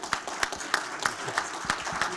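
Applause from a pitch competition audience at a workshop session, heard as fairly faint, sparse claps recurring at a steady rhythm, with no talking.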